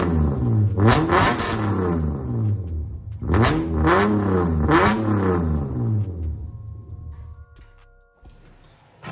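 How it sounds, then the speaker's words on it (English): A Lexus SC300 with a newly fitted muffler cold-starts and revs hard in three loud, close surges, each rising and falling, before settling to a rough, lower idle. "hopefully we will get a nice cold start of the new muffler and how that sounds"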